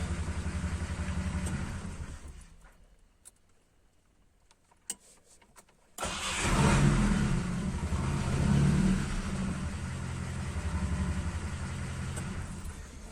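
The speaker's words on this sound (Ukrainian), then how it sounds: "двигун набагато став тихше робити" A GAZ-2410 Volga car engine, with a new water pump and silicone hoses, idles with a steady low rumble, fades almost silent with a few clicks, then restarts and keeps running louder and rougher.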